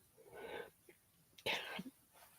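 A single sharp sneeze bursts out indoors during a resin flower crafting session, followed by a quieter second breathy burst, both fairly faint.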